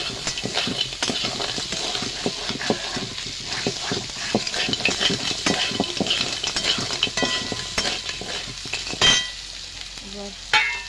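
Crabs tossed into spiced masala sizzle loudly in a pan, a dense steady frying hiss broken by repeated stirring scrapes and utensil clatter, close by and without talk.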